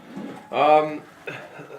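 Pigeons coo in a bottom loft meant for young birds, one louder, rolling coo near the middle followed by a shorter, softer one, with faint background noise around them.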